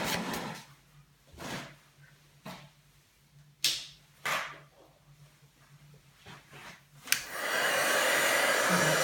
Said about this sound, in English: you'll hear the noise of heat embossing just for a minute